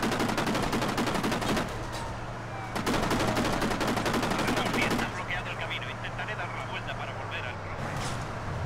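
Gunfire erupts in the video game Kane and Lynch: Dead Men: long, loud bursts of rapid machine-gun fire stop and restart, with gaps of lighter shooting in between and voices speaking over the shooting.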